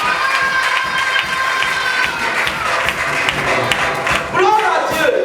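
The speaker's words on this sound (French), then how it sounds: "Applaudis le Seigneur pour ça" A church congregation at an anniversary celebration claps and cheers in a lively, continuous wave, with rhythmic hand claps and shouting voices, plus a swell of vocal sound near the end.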